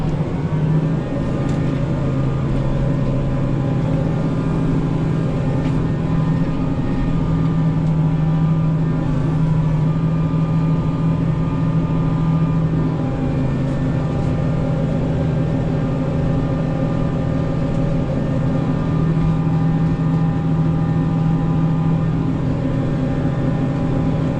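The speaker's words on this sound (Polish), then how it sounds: "obciążenia silnika 1600 obrotów na trzecim półbiegu idzie" A tractor engine works under load at a steady 1600 rpm in third half-gear, giving a continuous, droning mechanical hum that stays loud and even from start to finish with no talk over it.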